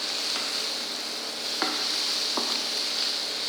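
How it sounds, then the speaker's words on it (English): Spices with coriander powder roast in ghee for toor dal fry, a constant hissing sizzle close up, broken by a couple of brief scraping stirs, with no voices. "roast the spices until ghee separates from it"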